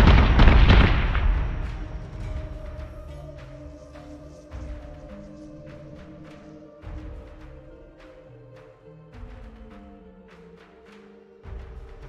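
Missiles fire and detonate in a Battlestar Galactica Deadlock space battle, opening with a heavy explosive blast and followed by repeated sharp impacts and booms over a low, droning game soundtrack.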